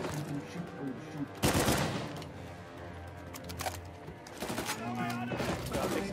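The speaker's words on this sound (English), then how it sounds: "it's a burst fire pistol" Burst-fire pistol in Uncharted 4, quick clusters of loud shots cracking through a tense game soundscape, with one strong burst near the start and more volleys later.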